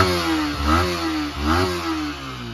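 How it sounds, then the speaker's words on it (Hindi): A Yamaha MT 15 V2 motorcycle (2024 top model) idles while parked, with two short throttle blips that lift the engine note before it settles back to a steady mid-pitched idle, heard close and clear. "चेक दिस साउंड गाइस, गाड़ी का क्या अमेजिंग साउंड आ रहा है।"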